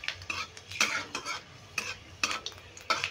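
Panch phoron whole spices being stirred and fried in a pan for amla pickle, with repeated scraping strokes of a spoon against the metal in an uneven rhythm over a faint low sizzle, close and fairly quiet.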